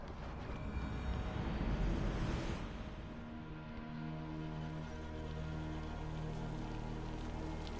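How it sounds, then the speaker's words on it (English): Steady rain falls in the video game Assassin's Creed Valhalla, a dense, even hiss with a low rumble that swells briefly near the start, then settles. "Oh, it's raining."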